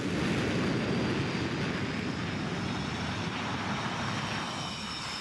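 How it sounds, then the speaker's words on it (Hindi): Dassault Rafale fighter jet flown by Indian Air Force pilots rolling down the runway for takeoff, a loud, steady broadband engine roar that holds constant throughout with a faint high whine on top. "उड़ान भरने के लिए रनवे पर दौड़ता यह है राफेल एयरक्राफ्ट"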